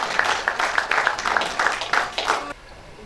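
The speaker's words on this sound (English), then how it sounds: "A big round of applause, ladies and gentlemen," A gathering at a Netaji Subhas Chandra Bose birth anniversary event applauds Lieutenant Sundaram, brisk clapping that fades out near the end.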